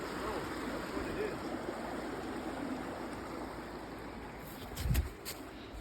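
Cold snowmelt water flows steadily in an outdoor stream, a soft continuous rush heard from close by, with a brief louder splash near the end.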